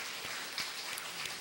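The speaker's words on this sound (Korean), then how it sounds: "하나님께 영광의 박수로 찬양 올리겠습니다." A church congregation claps in praise during a Sunday service, heard as faint, distant, continuous applause with a few louder individual claps standing out.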